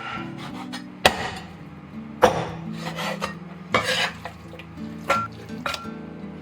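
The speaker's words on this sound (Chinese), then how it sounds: "首先，我们先把鸡腿给它斩成小块一点。" Chicken legs being chopped into small pieces with a cleaver for lemongrass stir-fried chicken: four or five loud, sharp blows land at irregular intervals on a board, with softer scraping and handling sounds between them and a low background hum.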